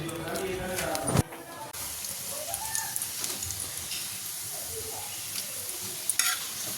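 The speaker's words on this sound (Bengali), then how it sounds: "চলো এগুলো ভেজে নিই তাড়াতাড়ি করে" Fritters half-fry in a pan at home, a steady sizzle under stirring and scraping, with a clatter near the start and a person speaking quietly over it.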